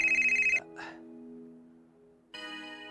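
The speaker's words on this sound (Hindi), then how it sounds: "अरे गोविंद शर्मा अंकल का फोन है" A telephone rings indoors with a loud, bright electronic trill in two bursts, the first cut off after half a second and the second starting near the end, with a quiet room tone between.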